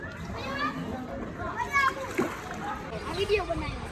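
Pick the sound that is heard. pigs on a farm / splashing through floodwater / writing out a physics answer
splashing through floodwater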